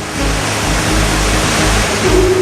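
Heavy surf of the flooded Bhagirathi river surges in a loud, continuous roar of churning water with rhythmic low swells and no voices.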